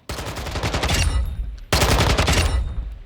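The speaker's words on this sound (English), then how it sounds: "So that's our Alpha AK-74M" An AK-74M rifle in Call of Duty Modern Warfare fires two long, loud automatic bursts at close range, split by a brief pause.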